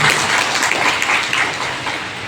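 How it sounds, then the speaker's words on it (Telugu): Brief burst of applause from a meeting audience clapping to approve resolutions, dense and close, gradually thinning over about two seconds. "ఒకసారి క్లాప్స్ ప్లీజ్"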